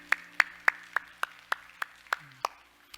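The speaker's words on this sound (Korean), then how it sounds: "우리 하나님께 영광에 박수합시다." A church congregation claps in praise after a closing prayer: about nine crisp, evenly spaced claps in a steady unison rhythm, with a faint sustained tone underneath.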